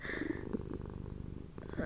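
A human voice imitates a contented cat's purr in an ASMR roleplay, a soft, close, low rumbling purr that continues steadily for under two seconds.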